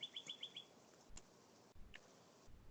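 A pet bird lets out a quick run of high chirps at the start, then a couple of isolated faint tweets, all quiet and slightly distant over low room noise.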